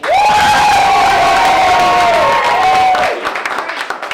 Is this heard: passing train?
no